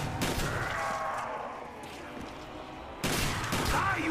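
Shotgun blasts in Black Ops Zombies on the Nacht der Untoten map, a couple of sharp bursts separated by a quieter stretch, with game noise and a voice speaking underneath.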